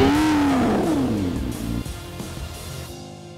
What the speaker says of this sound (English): First experience of the P1. It's got quite a lot of power and doesn't like this bumpy road very much.